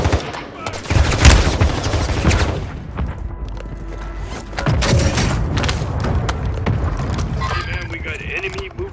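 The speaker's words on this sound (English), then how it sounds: "Oh shit, mortar strike." Mortar strike explosions in a Call of Duty battle sound as loud, heavy booms with rumbling low end, mixed with bursts of gunfire and voices talking over the chaos.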